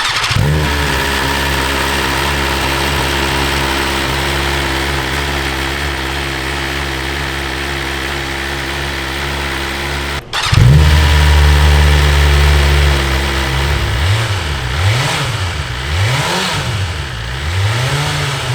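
A 2021 BMW S1000RR fitted with an Akrapovic slip-on exhaust idles with a deep steady drone, then fires into a louder growl and several rising and falling revs near the end, close and alone.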